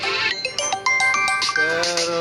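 A mobile phone ringtone playing a bright, rapid melodic sequence of electronic tones, loud and close, with faint room background.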